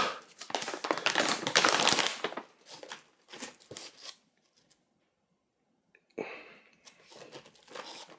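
Plastic packaging of Carolina Reaper peppers torn and crinkled open, loud close crackling bursts at first, a short pause, then more crinkling rustles near the end.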